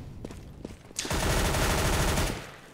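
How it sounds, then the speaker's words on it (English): Submachine gun fire in a CS:GO match on the Inferno map: a few sparse shots, then a dense, loud sustained volley of rapid automatic fire lasting over a second before it tapers off, with no talk. "They're really going ham on these SMGs, although Alu's already been dropped."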